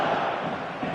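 Stadium crowd noise from an eFootball match, a steady broad roar with no distinct peaks or cheers, holding at a constant moderate level throughout.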